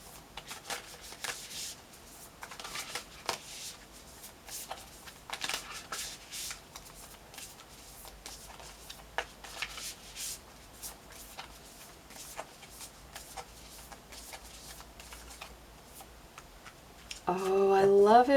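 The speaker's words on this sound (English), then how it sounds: "let's pull one card for you from the magical spell cards" Tarot spell cards are shuffled in a steady run of soft riffling and flicking strokes with small taps, fairly close and quiet, followed by a brief louder burst of other sound at the very end.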